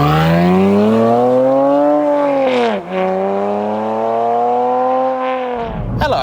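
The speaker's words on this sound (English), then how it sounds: "today I am driving a V6 engined Toyota MR2" A 320 hp 3.5-litre V6 Toyota MR2 revs hard and steady close by, its engine note climbing, dipping briefly near the middle, then pulling again before cutting off abruptly at the end; no voices.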